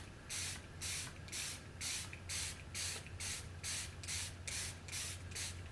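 Setting spray misted onto a face in a run of about a dozen quick, evenly spaced hissing bursts, close and crisp, with a low steady hum underneath.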